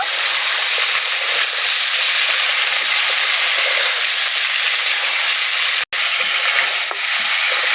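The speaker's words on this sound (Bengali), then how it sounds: "তিলটাকে আর বিনসটাকে হালকা করে ভেজে নেব" Sesame seeds and green beans fry lightly in a pan, giving a steady, loud sizzle that runs unbroken for several seconds apart from one brief cutoff near the end, with no talking.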